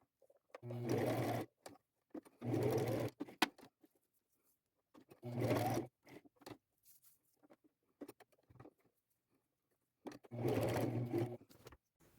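Sewing machine stitching upcycled fabric fringe strips onto a vest, four loud close bursts of rapid mechanical whirring separated by quiet pauses and small handling clicks.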